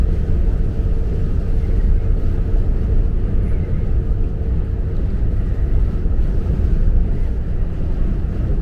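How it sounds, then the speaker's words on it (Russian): Strong wind roars in a steady, loud rumble around a car driving through a downpour in Sweden, a dense unbroken wash of noise with no speech. "Жутчайший просто ветрище."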